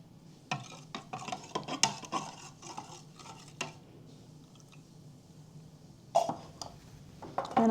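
Heavy cream is stirred into a baking mixture in a bowl, with a run of close clinking and scraping utensil strokes, then a quieter pause before a few more knocks and scrapes.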